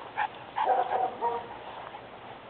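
A puppy gives soft whimpers and small yips, faint and close, in a quiet room.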